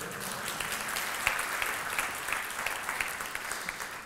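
Audience applause at a DevFest Nantes 2019 tech conference talk on microcontrollers and Google Cloud IoT, steady clapping from a room of people sustained for about four seconds with scattered sharper claps standing out.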